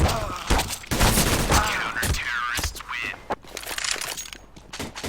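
R8 Revolver shots in Counter-Strike: Global Offensive ring out as several sharp reports among busy, cluttered game sounds, spaced irregularly over steady background noise.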